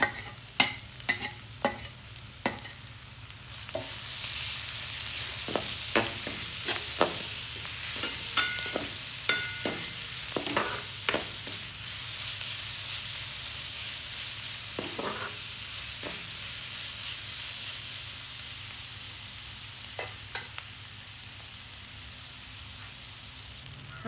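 Onions sizzle in hot oil as garlic and curry leaves are added for a Tamil potato patty recipe, with a steady crackling fry broken by repeated sharp spatula scrapes and stirring clatters, close and fairly loud throughout.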